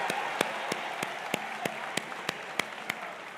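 Applause from an audience at a public remarks event, with a wash of crowd clapping punctuated by loud, evenly spaced single claps from one nearby person in a steady rhythm.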